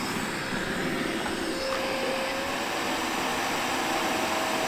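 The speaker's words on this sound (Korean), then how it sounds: "모든 구역의 진공 청소를 마무리를 한 다음에는 모발 압축을 시작합니다." A robot vacuum's all-in-one docking station compresses collected hair, giving a steady, loud whooshing suction roar that runs unbroken and close throughout with no voices.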